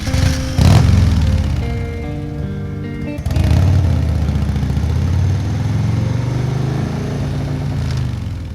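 A motorcycle engine used as a sound effect in a Hindi audio drama rumbles close and loud at a steady idle, with two short revs swelling near the start and again about a third of the way through.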